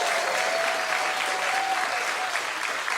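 Studio audience applause on a talk show, a steady, dense wash of clapping that stays even and fairly loud for the whole stretch.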